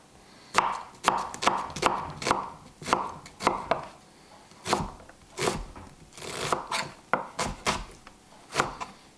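Onion being chopped with a knife on a board, leaving the core: a run of sharp, close knocks comes in irregular bursts, some quick and some spaced, with no talking.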